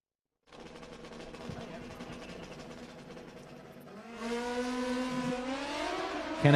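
A drag racing motorcycle makes a solo pass at a Midwest sportsman meet, its engine droning steadily and loud before climbing higher and louder as it accelerates away, heard alone without talk.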